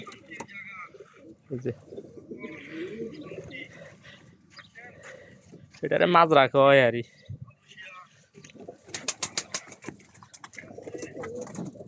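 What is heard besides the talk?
pigeons cooing in pigeon coops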